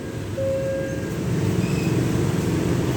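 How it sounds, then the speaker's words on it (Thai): A Thonburi–Kanchanaburi passenger train, service 725, rolls into a station with a steady loud rumble of wheels and carriages, brief high squeals of metal on rail rising above the continuous drone. "ทำไมรถไฟไม่เบรกอ่ะ"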